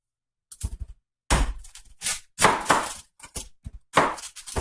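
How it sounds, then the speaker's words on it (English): Fast knife cutting for sausage enchiladas: bursts of rapid, sharp thunks and taps on a board, close and loud, separated by short pauses. "I'm going to be doing some rapid fire cutting"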